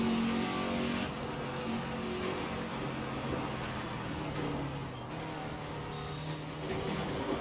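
A Ford GT40 race car engine in the video game Assetto Corsa, a loud sustained roar held near and steady, with gear changes and small shifts in pitch as the car takes a lap.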